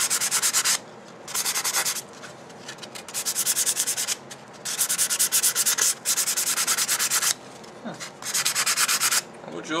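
Blued steel is sanded by hand with sandpaper in rhythmic back-and-forth strokes, loud and close, with brief pauses between bursts and no talking.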